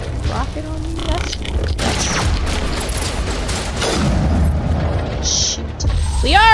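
A rocket bursts in Mass Effect, a heavy close boom rolling under scattered game sounds, chirps and a talking voice, with more blasts and whooshing effects toward the end.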